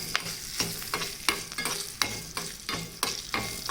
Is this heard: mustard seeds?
yes